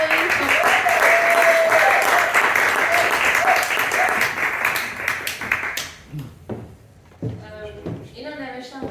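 Audience at a poetry reading greets a speaker with loud, dense clapping that holds steady for about six seconds and then dies away into scattered claps, shuffling and a few knocks.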